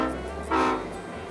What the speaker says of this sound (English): I can't miss the chance to take a ride on this classic diesel engine.